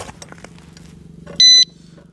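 A motorcycle disc alarm lock fitted to a bike's brake disc gives one loud, sharp electronic beep lasting about a quarter second, preceded by faint handling clicks.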